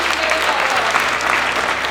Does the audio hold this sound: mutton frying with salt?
no